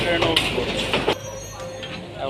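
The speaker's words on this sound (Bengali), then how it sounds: "এই মুহূর্তে ট্রেন চলে আসলো।" A train rumbles and clanks into a station on the Gaibandha–Rangpur line, metal wheels clattering briefly under people talking nearby.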